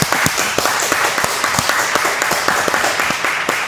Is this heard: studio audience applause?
yes